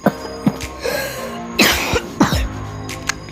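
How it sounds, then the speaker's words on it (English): A person coughs several times in a quiet underground subway station: short sharp bursts, a couple of louder harsh coughs in the middle, spaced irregularly and close to the microphone, with no speech. "Sorry, I got a little cough."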